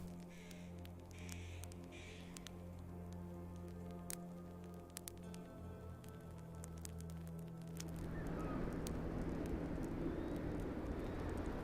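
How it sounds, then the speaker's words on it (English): Steady rain in the post-apocalyptic RPG ATOM RPG, a broad hiss that swells louder and denser partway through as the downpour intensifies over a low ambient hum. "Started raining."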